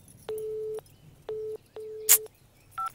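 Telephone busy signal: three steady beeping tone bursts of uneven length, with a brief click and a short higher double tone at the end, no talking.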